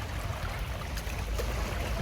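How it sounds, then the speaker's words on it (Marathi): A small waterfall rushes in a steady, close wash of splashing water, unbroken and without any voices over it. "यो बघा धबधबा पाण्याचा"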